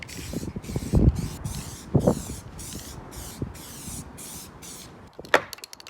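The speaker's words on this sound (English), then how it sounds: "for the paint, I'm using this gloss black Alfred stuff" Gloss black spray paint hisses from an aerosol can onto a Cosworth sunroof frame in short, repeated bursts, with faint knocks and handling noises between sprays.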